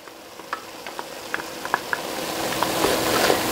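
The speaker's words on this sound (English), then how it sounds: "now I am going to add my garlic" Garlic sizzles as it goes into a soup pot with Italian sausage, a hiss that builds steadily with scattered sharp pops and crackles, close and growing louder toward the end.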